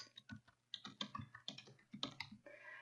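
Fingers type on a computer keyboard in quick, irregular clusters of soft key clicks, faint and close, with brief pauses between bursts.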